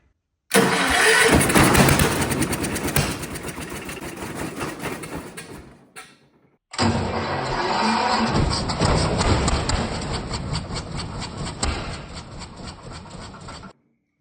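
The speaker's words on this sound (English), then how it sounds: "All right, let's crank it over and see what happens. I'm gonna hold the choke shut." Old Kohler generator engine cranking over with the choke held shut, two long bursts of loud, rapid churning from the starter separated by a short pause, close by and with no talking.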